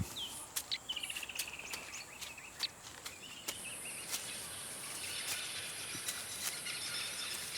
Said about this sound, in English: Her acute hearing tells her that this place is full of appetizing birds.